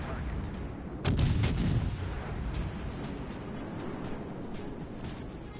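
Warship main guns fire in World of Warships Legends, a single heavy salvo booming about a second in, then low rumbling as a player speaks.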